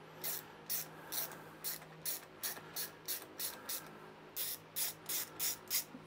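A ratchet fitted with an 8mm socket undoes the nuts holding the air box and carburettor on a Titan strimmer multi-tool, a steady run of about fourteen quick clicking bursts, close and clear in a quiet workshop.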